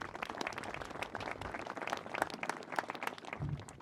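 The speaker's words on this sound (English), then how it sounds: "Let's have a big round of applause for Q&D" Crowd applause at a school groundbreaking ceremony, steady dense clapping from many hands, moderately distant and continuous throughout.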